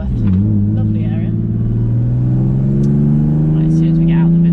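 A car with a loud exhaust drives along a village road, a close, steady droning engine note that rises slowly in pitch as it pulls away, filling the whole stretch.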